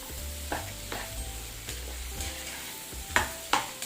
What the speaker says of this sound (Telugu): ఫైన్గా మిక్స్ చేద్దాం